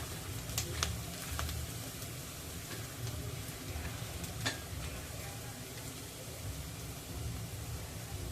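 Onion and garlic fry in a pan for shev bhaji, a low, even hiss of sizzling oil with a few faint ticks, steady and quiet throughout with no talk.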